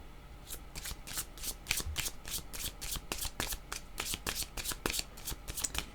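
A deck of playing cards is shuffled repeatedly, giving a fast, steady run of crisp riffling bursts, close and clear with no talking.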